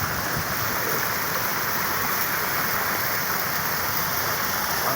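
Water at an apartment swimming pool makes a steady, loud rushing and splashing wash that stays even and unbroken from start to finish.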